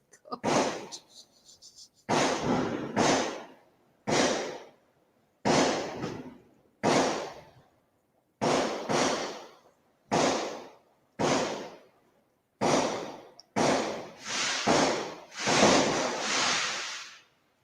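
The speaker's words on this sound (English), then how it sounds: "So this is the firework display from the town hall." A town hall firework display in a small village on New Year, with a series of sharp bangs and crackling bursts in a steady rhythm and brief gaps between them, loud and fairly close, ending in a denser barrage.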